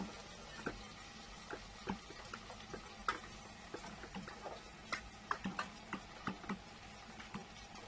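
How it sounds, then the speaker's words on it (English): Minced meat sizzles faintly in a pot while a utensil scrapes and clicks against it, giving irregular light taps over a soft frying hiss. "It's frying."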